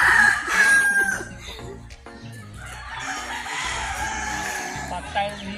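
A rooster crows loudly and drawn-out, repeating its call, with chatter and other fowl clucking in the background.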